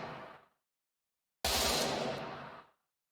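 Two loud gunshot blasts from a Minecraft WeaponMechanics plugin gun, each a sharp crack with a decaying tail, separated by about a second of silence.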